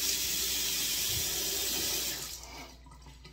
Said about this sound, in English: let's rinse some of this off